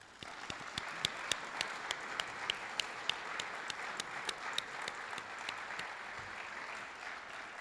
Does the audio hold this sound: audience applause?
yes